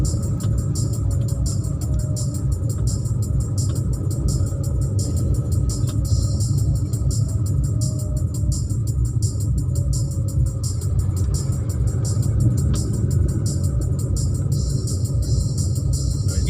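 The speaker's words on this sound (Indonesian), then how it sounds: "daerah rame kendaraan roda 2 tuh" Steady low road rumble and engine drone heard from inside a car moving through busy traffic full of motorbikes in Cirebon, continuous and fairly loud with no talk.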